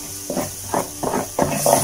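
Tuna stir-fried with garlic and chili in a very hot pan over strong electric heat hisses in four or five short surges as the food is tossed, each burst close and fairly loud.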